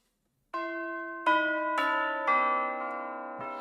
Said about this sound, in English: We're going to use our tubular bells.